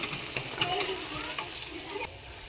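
Onions frying in a pan for mutton kosha, being stirred: a steady soft sizzle with scraping stirring strokes, close and fairly quiet.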